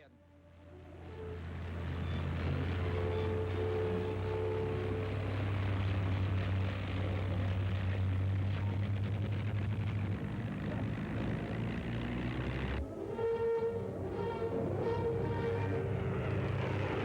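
Messerschmitt fighter planes taking off in 1940 wartime footage, a loud sustained engine roar with steady droning tones, swelling and shifting near the end as more aircraft join.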